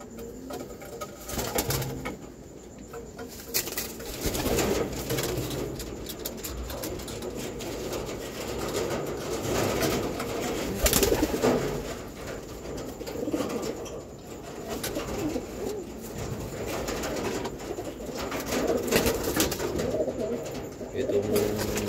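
Racing pigeons back from a training flight coo softly and repeatedly, with occasional wing flaps, while someone talks over them nearby.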